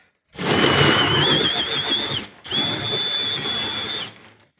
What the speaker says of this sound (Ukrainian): Треба трубу там пробити отвір у стіні.